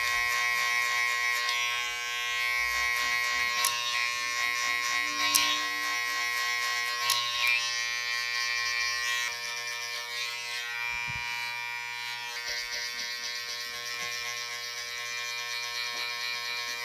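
Electric hair clippers fitted with a smaller guard cutting hair near the hairline, a steady close buzzing drone with slight shifts in tone as the blade moves through the hair, continuous throughout.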